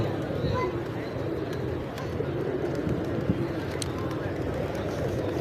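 Pigeons coo at a pigeon park in Malé, Maldives, their soft calls set in a steady, busy outdoor wash of ambient noise with faint chatter in the background.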